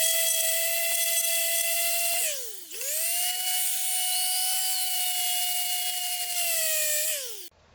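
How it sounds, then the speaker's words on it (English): A power sander runs flat against a wooden bass neck, a loud steady high whine that dips in pitch briefly as it loads, then spins back up before cutting off. "So you just set the sander flat."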